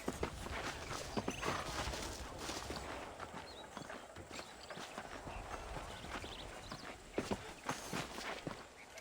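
Horse hooves clip-clopping steadily on the ground while riding in the western game Red Dead Redemption, a continuous rhythmic trotting beat under ambient outdoor noise.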